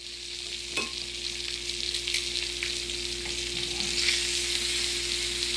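Salmon sizzling in a frying pan, a steady, close crackle and hiss with a few sharper pops, heard alone without talk.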